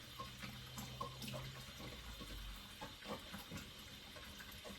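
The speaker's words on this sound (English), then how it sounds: "Now I've got my really hot water, and I'm just going to rehydrate some of these" Really hot water pours steadily from a tap or kettle over minced onions to rehydrate them for burgers, a faint, continuous splashing trickle with no talking.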